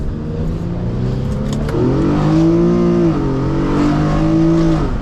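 An Infiniti G37 engine revs hard up close, its pitch climbing steadily as it accelerates through first gear.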